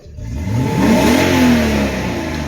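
A 1993 Mercedes 500E V8 with a worn fan clutch revs hard under acceleration: a loud, close engine roar that climbs in pitch, holds, then settles back, with no voices over it.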